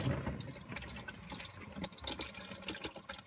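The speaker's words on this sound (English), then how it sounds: "we're just going to let all the transmission fluid drain out into the pan" Transmission fluid pouring from the drain hole of a Cobra T56 gearbox into a drain pan, a faint, continuous splashing and trickling stream heard close up, without speech.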